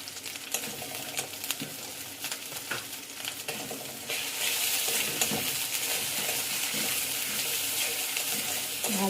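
Spices such as turmeric, cumin and chili powder are stirred into food frying in a pan, with scraping and rattling strokes over a sizzle that swells louder partway through.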